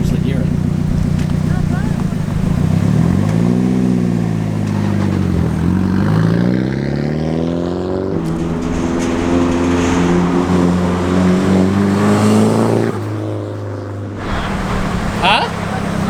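Engine noise swells and sweeps in pitch as vehicles pass nearby, with a steady idling rumble between and people talking over it.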